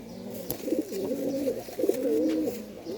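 Small green pigeons coo in a close, continuous run of soft, throaty warbling phrases that rise and fall without a break. No voices are heard.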